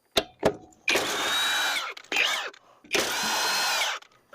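A power tool spins lug nuts off a truck wheel during a hub replacement. Two quick taps are followed by three long, loud whirring bursts with short pauses between them.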